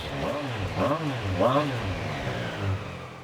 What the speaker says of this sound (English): So the bike's up and running